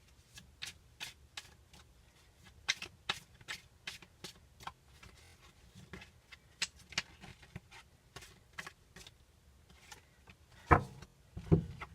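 Tarot cards being shuffled by hand, a fast run of crisp riffling flicks at an uneven rhythm, close and fairly quiet, ending with a couple of louder taps and shuffles.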